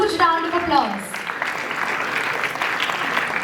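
Audience at an entrepreneurship summit startup competition breaks into steady applause right after a short spoken announcement, dense clapping continuing evenly to the end.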